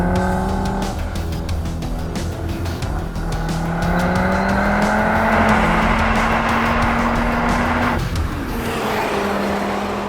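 A 2025 Audi RS 3 with a 400 hp five-cylinder engine is driven hard on a race track. The engine note rises and falls through the gears, and tires squeal briefly. It is loud and close, with no talking.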